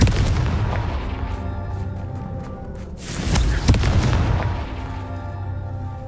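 A Confringo explosion spell in Hogwarts Legacy goes off as a deep booming blast, with a rumbling low-end burst and a sharp crack midway, amid continuous game background noise.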